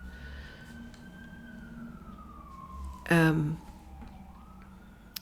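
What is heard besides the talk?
ambulance siren approaching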